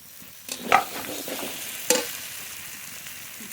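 Taro stirred and sautéed with spices in a pan, with fried tengra fish about to go in: a soft sizzle with two sharper scraping stir strokes, moderately quiet and without voices.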